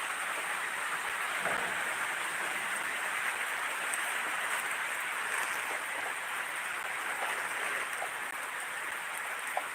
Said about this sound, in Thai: นี่ครับบรรยากาศหน้าฝนนะครับผม